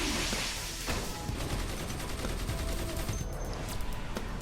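Rapid bursts of video-game gunfire from munitions powers in DC Universe Online, chain gun and shrapnel style, crackling continuously and densely throughout at moderate loudness.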